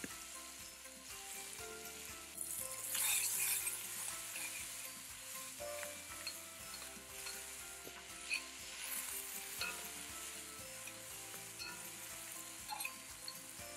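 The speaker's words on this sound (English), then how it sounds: "I'll add the onions and cook it for about a minute or two." Onions frying in a pan for spinach and mushroom rice, a steady crackling sizzle with stirring clatter throughout and a louder burst of spitting early on, close and alone without talk.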